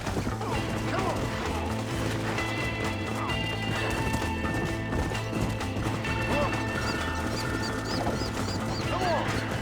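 Horse hooves clatter steadily in Red Dead Redemption amid a busy mix of crashes, whinnies and other game sounds, with voices talking over the action.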